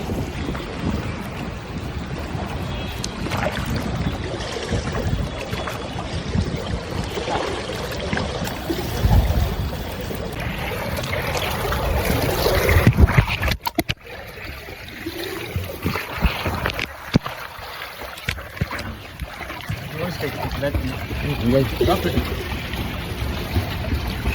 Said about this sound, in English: I'm going to swim for a while.